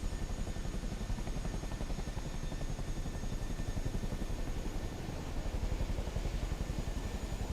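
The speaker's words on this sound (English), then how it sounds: "Chinook is one of my other favorites." A Boeing CH-47 Chinook helicopter in Microsoft Flight Simulator 2024 gives a loud, continuous rotor thump with a steady fast rhythm over a dense engine roar and a faint high whine, with no talking.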